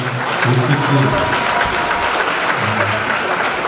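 Church congregation applauding the Lord, a steady dense wash of clapping from a large crowd lasting the whole stretch, with voices mixed underneath.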